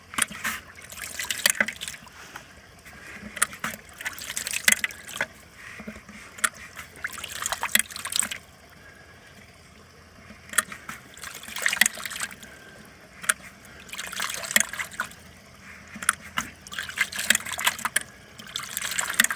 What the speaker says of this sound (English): And we're getting water squirting out here.